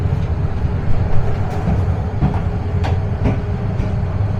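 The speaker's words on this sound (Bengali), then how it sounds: "ঢাকা থেকে ছেড়ে আসা মহানগর এক্সপ্রেস কুমিল্লা রেলওয়ে স্টেশনে 1 নম্বর প্ল্যাটফর্মে প্রবেশ করল।" The Mahanagar Express from Dhaka rolls into platform 1 at Comilla railway station with a steady heavy rumble and scattered sharp clanks and squeals from the wheels.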